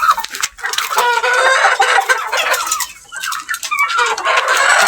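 Three hens cluck busily alongside a rooster, loud and close, their overlapping calls filling the yard without pause.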